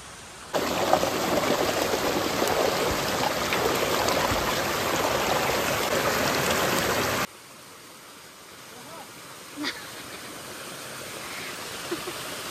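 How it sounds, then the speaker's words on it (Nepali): A village stream in Nepal runs swollen like a waterfall, a loud, close rush of water for about seven seconds before it cuts to a much quieter outdoor background with a few faint knocks. "यहाँनिरको खोलो त राम कत्रो भएको झर्नै भएछ"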